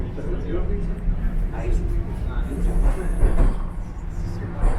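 A Toronto subway train rumbles steadily at close range, fairly full, its low roar and rattling carrying throughout, with people talking over the noise.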